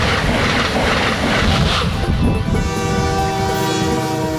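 A passing train sounds its horn: heavy rail rumble comes first, then a loud sustained multi-tone horn rises over the rolling noise and holds through the end.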